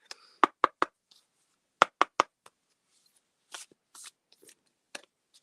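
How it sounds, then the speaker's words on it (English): Tarot cards being shuffled: two quick bursts of three sharp riffling snaps each, followed by softer scattered card rustles and taps, close and alone with no talking. "I'm going to start shuffling for Night Owl"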